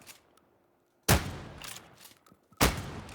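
Shotgun blasts in a zombie video game, two loud booming shots about a second and a half apart, each with a short ringing tail and faint game noise between them.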